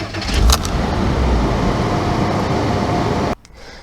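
A Porsche 987 Boxster's 2.7 litre flat-six engine, heard close up as a brief starter crank catches into a loud, steady idle that runs for a few seconds before cutting off abruptly.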